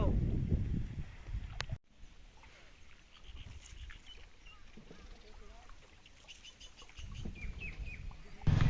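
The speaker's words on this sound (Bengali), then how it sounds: "আমাদের ভিডিওর ব্যাকগ্রাউন্ডে যেসব পাখির ডাক বা অন্যান্য শব্দ শুনতেছেন," Scattered birdsong chirps and calls drift through a quiet riverside village. Someone speaks briefly near the start and again at the end.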